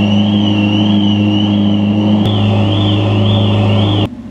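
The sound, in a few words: loud sports car engine starting and revving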